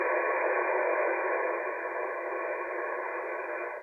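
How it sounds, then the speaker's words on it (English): Steady band-limited hiss of static from a ham radio receiver tuned to the 20-meter band, even and moderately loud for about four seconds with no voices. "all I hear is static."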